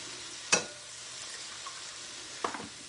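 Chopped onions sweat quietly in a Brilliance skillet: a soft, low sizzle throughout, broken by two brief scraping stirs near the start and end. No voices.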